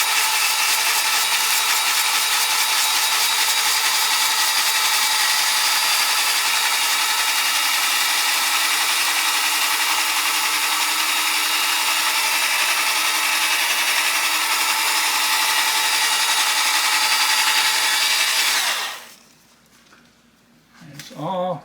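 A Dewalt 20V electric spin scrubber running at 1500 RPM, a steady loud motor whir that holds unchanged for a long stretch before cutting off, followed by a short rustle.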